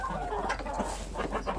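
Hens cluck steadily while pecking at whole oats, a busy close chorus of short clucks over a constant low background hum, with no talk.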